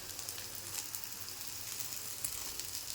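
Pumpkin flower fritters fry in oil over a low flame, giving a soft, steady, even sizzle throughout with no talking.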